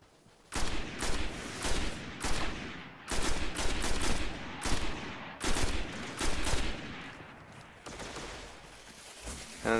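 Repeated bursts of close, loud gunfire from Destiny Alpha on PS4 come in rapid volleys separated by short gaps, with sharp cracks and rolling echoes and no talk over them.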